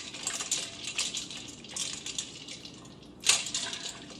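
Water sloshes and trickles as cooked vegetables are lifted out of a bowl of ice water, with a few splashy bursts and one louder splash near the end.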